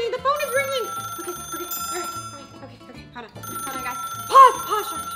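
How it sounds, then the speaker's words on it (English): A bright electronic phone ring repeats in short bursts over busy pizza conveyor belt game music and sound effects, with a louder burst near the end. "Oh no, the phone is ringing."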